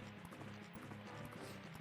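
Horse hooves clip-clop in a rapid, steady rhythm in the video game Zelda: Majora's Mask, faint and mixed with other game sound.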